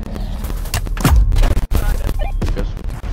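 Artillery tower firing in the video game Tower Defense X: a burst of loud booming shots and thuds in quick succession, mixed with game effects and a person talking over them.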